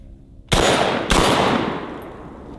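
A DP12 pump shotgun fires two loud, sharp blasts about half a second apart out of near silence, each followed by a long fading echo.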